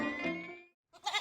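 A goat in a residential housing society gives a loud, close, wavering bleat, then goes briefly quiet before a second bleat begins.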